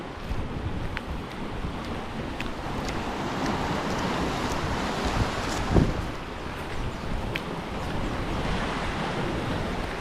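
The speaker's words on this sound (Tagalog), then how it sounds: "Ayun o, nasalpok ang tubig o." Water surging and slapping against the shore beside a parked boat, a steady broadband wash with wind noise on the microphone and one louder splash midway.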